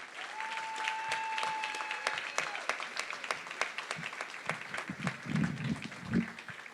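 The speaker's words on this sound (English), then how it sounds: "please give a warm round of applause" Applause at the Covenant House Greater Washington Night of Stars 2018 awards gala, moderate clapping from a seated audience that thins toward the end as a voice begins speaking.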